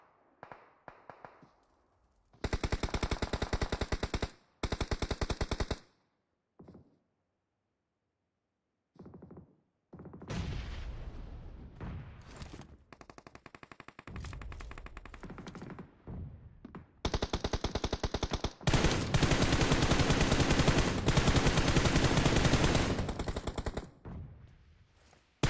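Bursts of automatic gunfire in PUBG Mobile, a North America scrimmage match, ring out loud and rapid in several long strings separated by brief pauses, with sustained volleys dominating the latter half.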